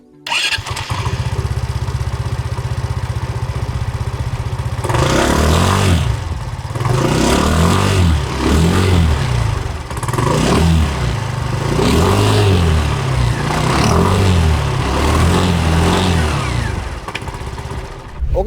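Aprilia SR 125, a 125cc sport scooter, idles with a steady low exhaust hum, then revs in about six sharp, evenly spaced bursts, each rising and falling back, close and loud.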